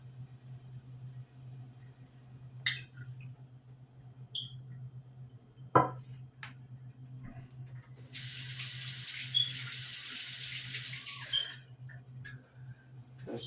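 Tap water runs into a kitchen sink during handwashing, a steady hiss lasting about three seconds amid quiet room sounds and a couple of sharp knocks.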